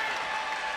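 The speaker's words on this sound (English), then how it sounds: "You can hear the French crowd in the background." French spectators applaud steadily at a Paralympic men's singles table tennis match, class 9, France versus Ukraine at London 2012; a dense, continuous wash of clapping fills the hall without pause for under a second.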